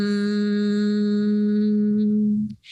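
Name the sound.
humming with mouth closed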